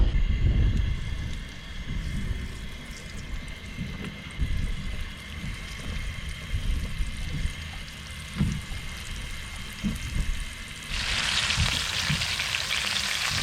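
Food fries in oil aboard a boat on the water, a steady close sizzle with occasional stirring clatter, joined near the end by a louder hiss.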